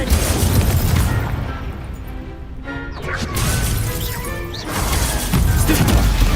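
An Incendio fire spell cast in Hogwarts Legacy bursts with loud crashing, booming blasts that dip briefly in the middle before flaring up again, with no talking.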